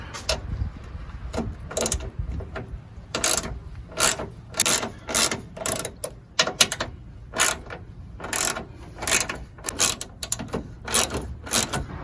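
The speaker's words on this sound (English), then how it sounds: "Let's go ahead and remove it with a ratchet." A hand ratchet loosens 8mm radiator bolts on a Ford F-250, giving loud, close clicking bursts in uneven back-and-forth strokes with brief pauses between runs.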